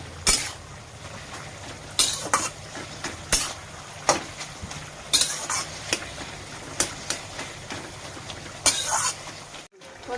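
Pumpkin greens fry in a pan while a spatula stirs and scrapes, producing sharp scraping bursts every second or so over a steady low sizzle.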